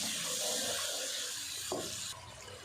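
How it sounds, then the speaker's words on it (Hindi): Water poured into a pan of spices being fried for kadhi pakoda, a steady hiss and watery rush that drops away abruptly near the end, moderately faint. "थोड़ा सा पानी डाल के मसाले को अच्छे से फ्राई कर लेते हैं।"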